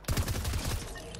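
In the video game Fortnite, a rapid burst of gunfire crackles in quick succession for about a second, fairly faint in the game mix.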